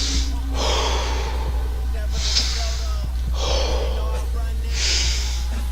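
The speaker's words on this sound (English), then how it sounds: "let me just take a moment to catch my breath" Heavy breathing while catching breath, four deep, loud, close breaths alternating inhale and exhale with airy gasping texture over a low hum.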